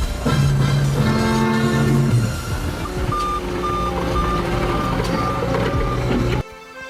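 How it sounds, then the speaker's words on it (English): Reversing beeps from a compact skid loader on a work site, a loud regular series of evenly spaced electronic beeps over heavy engine rumble and clatter, ending abruptly. "Skid loader, a small compact loader with either wheels or tracks, used for excavating, snow clearing,"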